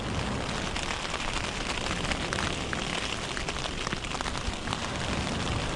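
Steady rain drums on a sea fishing shelter on the Easington coast of Holderness, a dense continuous hiss of drops with no pauses and no voices.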